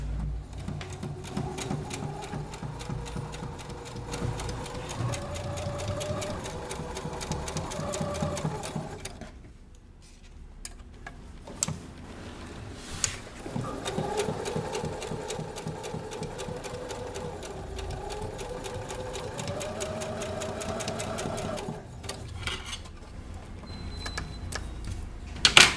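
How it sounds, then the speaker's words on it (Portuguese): A sewing machine stitches the two corners onto fabric strips for a Christmas wall hanging, its motor whirring in long steady runs with a short pause midway, close and alone. "Eu vou para a máquina, vou costurar os dois cantos nas duas tiras"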